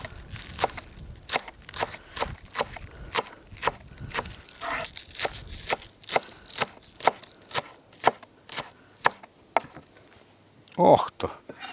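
A knife chops vegetables finely on a cutting board outdoors, producing a rapid series of sharp, close knocks, several bursts of a dozen or more strokes, ending with a louder clatter.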